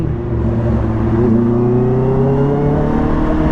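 A Yamaha Xmax scooter speeds past with a steady, loud engine whir and rising pitch, sustained through the whole stretch with no talk.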